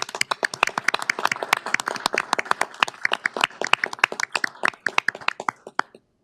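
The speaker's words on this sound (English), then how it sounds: "another round of applause I think would be nice" Applause at a county board of commissioners meeting: a room of hands clapping in sharp, distinct, fairly close claps with an uneven rhythm, steady for several seconds before thinning out and stopping.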